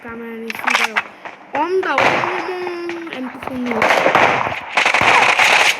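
Rapid sharp gunshots from weapons in the mobile battle-royale game PUBG Mobile during a team deathmatch, cracking in quick clustered bursts over game noise, with voices talking at moments.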